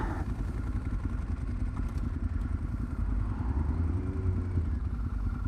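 A Honda Hornet motorcycle engine idles nearby with a steady, rumbling burble and some light mechanical clatter throughout.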